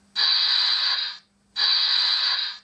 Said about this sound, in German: Unter F8 haben wir Dampf ablassen.